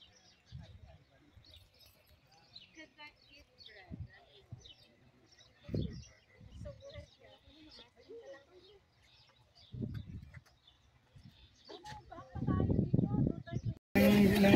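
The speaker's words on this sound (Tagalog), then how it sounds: "Nakaka-relax ang tinig ng ibon." Birds chirping and calling outdoors on a trip around Yanbu, scattered bright tweets over a quiet background, interrupted by people talking nearby and a louder burst of noise near the end.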